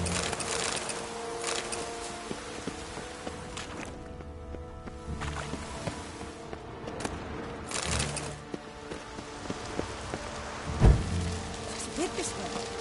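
Rain falls in the video game The Witcher 3: Wild Hunt, a steady quiet patter under ambient game sounds, with a brief low thump near the end.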